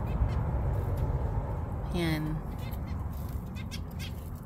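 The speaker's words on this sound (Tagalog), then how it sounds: "Ang dami nilang alagang ibon, oh." Several pet birds kept in a backyard give short honking calls, one clear call standing out midway, heard faintly under a steady noisy background while a person speaks briefly nearby.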